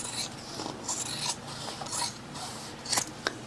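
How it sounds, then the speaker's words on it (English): Scissors snip through pants fabric being cut away during a mending job, giving soft, quiet rasping strokes in an irregular run with a few sharper clicks near the end. "I'm going to cut this away."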